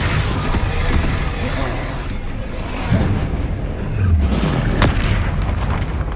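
Spell blasts and booming explosions in the Hogwarts Legacy video game during a fight with a troll, several heavy bursts and impacts over rumbling combat noise, loud and close.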